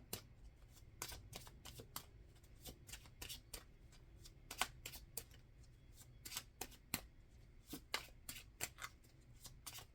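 A tarot deck shuffles repeatedly by hand, giving quick crisp riffling flicks in bursts, close but quiet, with no talk.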